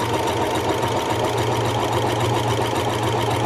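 Singer HD 6805c sewing machine stitching zigzag to join a synthetic batting blanket, running continuously with a steady, close mechanical whir and rapid needle chatter over a low hum, with no talking.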